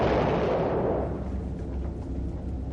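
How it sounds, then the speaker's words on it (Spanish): A deep, booming underwater-style explosion of torpedoes aboard the Kursk submarine, rendered as a loud dramatic effect: a heavy roaring blast that rumbles on and slowly fades, with no voices over it. "el resto de torpedos del Kursk habrían estallado causando una explosión 100 veces mayor que la primera"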